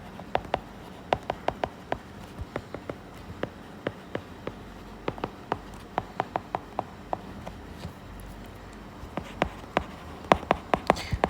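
A marker or pen taps and scratches while writing out a math multiple-choice problem, crisp irregular clicks in short bursts with brief pauses, close and distinct over faint background noise.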